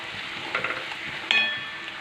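Ground coriander masala paste sizzles softly as it is sautéed in a pan, a faint steady frying hiss with a brief sharper clatter from stirring, no voices.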